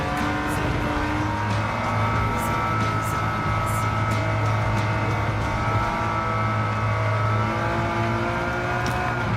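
Steady engine drone from a car in Gran Turismo 7, held at sustained throttle with layered harmonic whine over a low rumble, loud and continuous with no talk.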